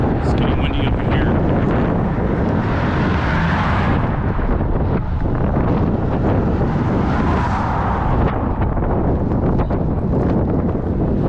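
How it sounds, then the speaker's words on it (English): Strong wind buffets the microphone at night on a town street in Stockbridge, Georgia. The roar is loud and continuous, with gusts that rise and fall throughout. "It's getting windy over here."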